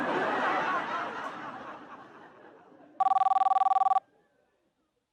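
A telephone rings in a single loud, close electronic burst of rapid trilling pulses lasting about a second, following a fading stretch of broad background noise.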